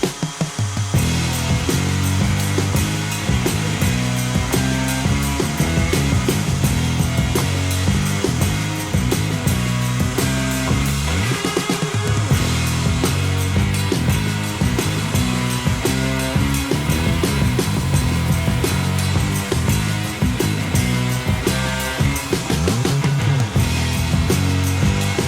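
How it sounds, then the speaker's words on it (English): Power sanding on wood for a beginner-built DIY floating shelf, a loud continuous whirring grind with rhythmic pulses as the sander moves back and forth, close and unbroken for the whole stretch, no talking. "I finished this part by doing a bit of sanding on what I just worked on"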